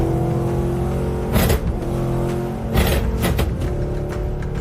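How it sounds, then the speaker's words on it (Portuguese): Supercharged muscle car of over 700 hp idles with a deep steady engine drone, then revs in a few sharp bursts with a whistling compressor, loud and close. "Mais de 700 cavalos respondendo no pé direito e o compressor assobiando a cada acelerada."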